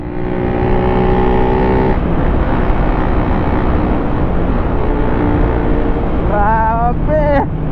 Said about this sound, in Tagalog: Magpapamura ka talaga sa lakas ng Kawasaki Ninja 1000cc.